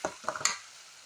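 Tomatoes sautéing in oil in a pan give a brief, close cluster of stirring scrapes and soft sizzle, three or four quick knocks before fading within about a second.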